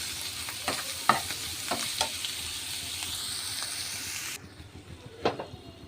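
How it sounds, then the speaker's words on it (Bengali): Shrimp fry with onions in a pan, making a continuous close sizzle broken by scraping stirring strokes, then quieter crackling after a brief drop in level. No speech. "এই যে ভাজা হচ্ছে চিংড়ি মাছ"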